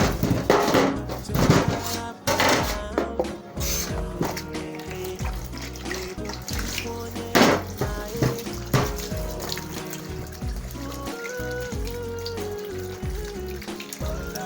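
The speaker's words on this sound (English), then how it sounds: "We'll be washing our onions." Tap water runs steadily into a sink while onions are washed by hand, a close, continuous splashing rush with irregular bursts and clatter and no talking.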